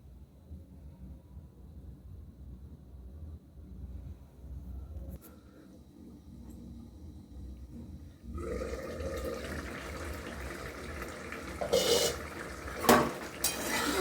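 A lid goes onto a pot of vegetarian soybean and potato curry with metallic clanks and rattles, then cookware clatters and a bubbling simmer rise louder toward the end, with no voices.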